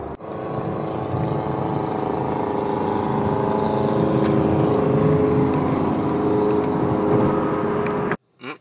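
Small buggy car engine at a Cars and Coffee show, a close, loud, steady droning hum that holds for several seconds and then cuts off abruptly near the end.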